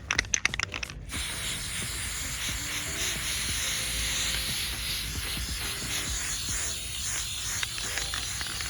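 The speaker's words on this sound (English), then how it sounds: "Try not to spray my flowers" Water sprayed from a hose onto garden flowers and plants: a steady broad hiss of spray runs continuously after a few brief opening clatters.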